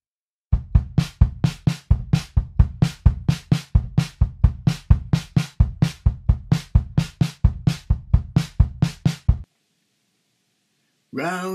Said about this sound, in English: So I thought I'd use it with kick drum and snare drum.